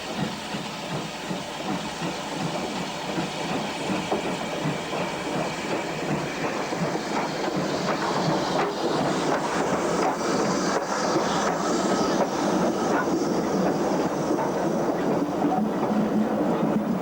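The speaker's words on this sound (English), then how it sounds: "the CWD 282-5085 takes the train on the branch to Fort Abbas." A CWD class 2-8-2 steam locomotive hauls a train along a branch line to Fort Abbas on a misty early morning. A steady rumbling, clattering rush with hiss grows gradually louder as it approaches.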